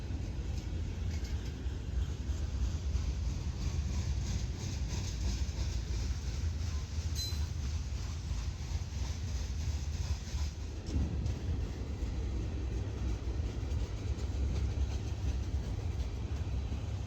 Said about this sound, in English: Our mid DPU on the manifest in front of us is a GE ES44AC